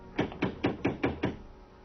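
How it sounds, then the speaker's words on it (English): A door knocker strikes a big front door six times at an even pace, with each knock sharp and resonant. "The nun raised the knocker,"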